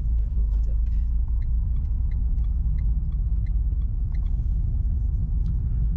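A learner driver's car engine rumbles steadily and loudly as it accelerates during a driving lesson, a continuous low drone with faint voices occasionally audible over it.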